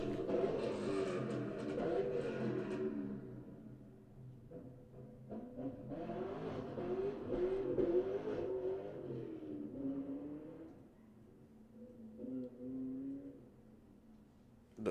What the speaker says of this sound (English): Now is that a Hellcat? That's a Camaro. That shit was loud as hell.